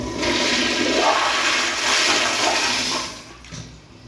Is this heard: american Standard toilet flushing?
yes